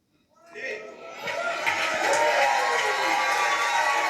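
A crowd's clapping and cheering swells from silence into sustained, loud applause that fills the room.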